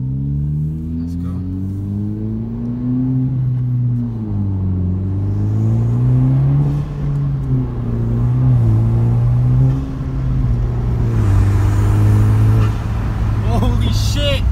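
A 10th-generation Honda Civic Si with a Cobra cold air intake drones and revs at moderate engine speed, the engine note rising and falling in waves through the cabin, loud and close, with a voice speaking over it at times.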